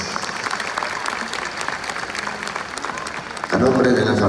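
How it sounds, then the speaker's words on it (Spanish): A crowd applauding at a jaripeo dance event on a ranch, a dense, steady wash of clapping throughout, with someone talking over it on a loudspeaker and louder voices and music entering near the end. "Un aplauso bonito."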